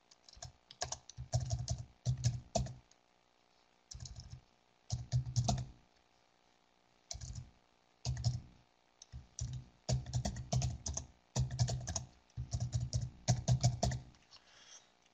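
Someone types on a computer keyboard in quick clattering bursts separated by short pauses, close and fairly quiet, with no voices.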